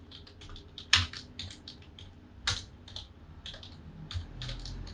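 Fingers type code on a computer keyboard in a quick, uneven run of soft key clicks, with a couple of sharper presses standing out. Heard fairly close and quiet, with no talking.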